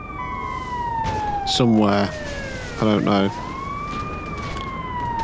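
Wailing ambulance siren in Grand Theft Auto V on PC, a steady rising and falling electronic tone running throughout, with someone talking over it twice in short bursts.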